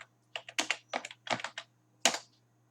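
Quick, uneven clicking of keys on a computer keyboard as a command is typed, several soft taps in short bursts close to the mic over a faint steady hum, with no talk.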